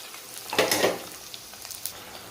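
Prawns with onion, tomato, chilli and drumstick frying in a pan, a brief bright sizzle rising and fading, with faint stirring clicks after.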